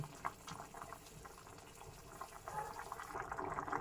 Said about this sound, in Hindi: 5 to 10 मिनट्स के लिए हम इसको बॉईल करने के लिए रखेंगे।